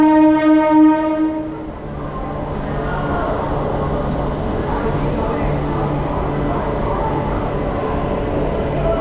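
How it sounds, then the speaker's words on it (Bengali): A Kolkata local train pulls out of Howrah station, its horn sounding at the start over a steady low rumble of moving carriages, with some voices in the background. "7:09 ট্রেন কিন্তু আমাদের হাওড়া থেকে ছেড়ে দিল।"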